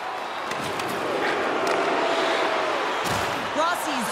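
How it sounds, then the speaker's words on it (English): A home arena crowd in the NHL 24 hockey game jeers a player, with a loud sustained roar and boos, a few sharp knocks and thuds over it, and a commentator's voice in the background. "Rossi's really hearing it from the home crowd right now."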